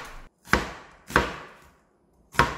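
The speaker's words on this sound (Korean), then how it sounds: "양파는 결을 끊어서 썰어주시는 게 좋습니다" Three crisp knife chops slicing onions on a cutting board, spaced unevenly, each a sharp close thump with a short fading tail, no talking.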